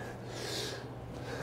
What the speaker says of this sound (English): Sorry for the sniffling.